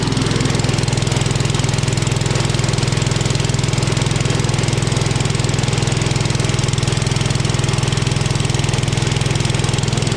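An engine-driven welder runs its large alternator to charge a bank of batteries: a loud, constant engine drone holding steady throughout with no change in pitch and no voices.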